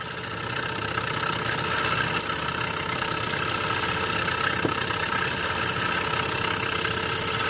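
A twin-cylinder Stirling engine kit from Enginekitor runs under generator load, giving a steady, fairly loud mechanical whir with fine rapid ticking and slight speed wavering, close up with no voices.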